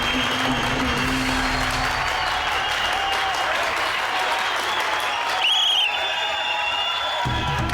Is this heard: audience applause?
yes